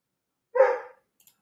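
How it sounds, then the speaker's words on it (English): A single short dog bark sounds from nearby in an otherwise quiet indoor room, followed by a faint click. "It's my dog barking for some reason."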